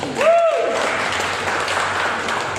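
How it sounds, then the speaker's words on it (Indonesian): Audience clapping at a business opportunity presentation for a network marketing agency, a steady dense spread of applause lasting the whole moment, with a brief rising tonal sweep near the start. "Aplaus buat Pak Haji."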